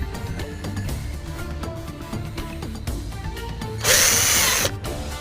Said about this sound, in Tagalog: At babarinahan na natin siya